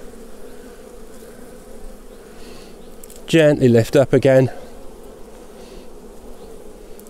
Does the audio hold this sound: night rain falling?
no